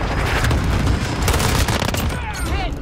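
Finn LMG machine gun firing in Modern Warfare gameplay, a dense, loud burst of rapid automatic fire with booming impacts that tails off near the end.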